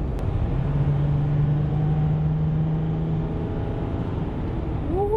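A 2018 Ram 1500 EcoDiesel pickup on a test drive, heard as a steady low engine and road rumble with a sustained droning tone, continuous and fairly close, with no voices.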